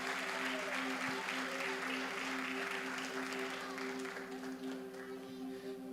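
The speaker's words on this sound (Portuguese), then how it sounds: "Vamos aplaudir os irmãos que estão nos visitando nessa noite." A church congregation applauds visiting brothers during an evening service, a dense, distant wash of clapping over a steady electronic hum that eases slightly toward the end.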